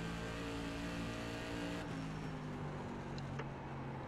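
SK Modified race car engine in the iRacing sim at Concord, a steady loud drone that dips slightly as the throttle eases through a corner, heard alone without talk.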